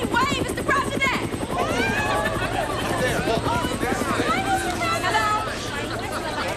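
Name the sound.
helicopter flying over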